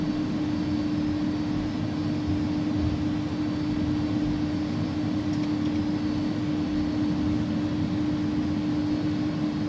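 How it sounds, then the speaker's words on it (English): Airbus A300F freighter engines spooling at full TOGA takeoff thrust in X-Plane 11, a steady loud broadband roar with a constant tonal hum, unchanging throughout with no talk. "This will be a full toga takeoff."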